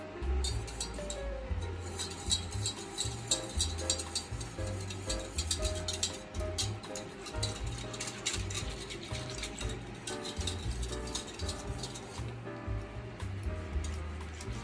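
A spoon stirs gram flour into buttermilk in a bowl, producing a continuous stream of soft clinks and swishes at low volume, with no talking.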